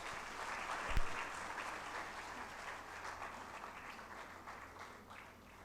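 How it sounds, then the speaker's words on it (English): Audience applause at a university undergraduate orientation ceremony, a steady faint wash of clapping from a crowd that holds throughout and slowly fades. "A big round of applause for her,"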